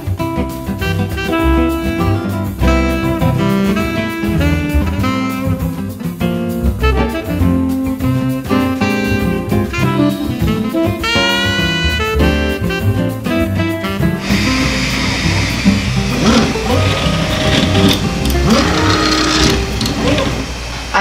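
An Anet A8 3D printer's stepper motors whir and sing in shifting, melodic pitches, then turn into a steadier, noisier mechanical whirring. Fairly loud and close.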